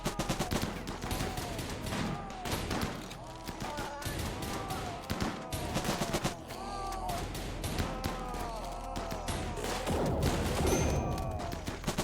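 Laser weapons fire during a battle in the video game RimWorld, with dense overlapping bursts of zapping shots in rapid, irregular volleys that continue throughout.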